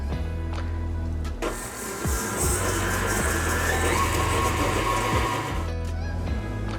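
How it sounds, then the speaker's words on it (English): A steady electric mixer whirrs without a break as butter and sugar are beaten until fluffy for Norwegian sandbakkel dough, a close, even motor hum lasting throughout. "Now you're gonna whisk this into fluffy."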